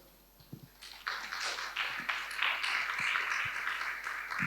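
Audience applause at an Italian talk on digital fashion: a few scattered claps at first, then a steady wave of clapping from a crowd that carries on to the end, moderately distant.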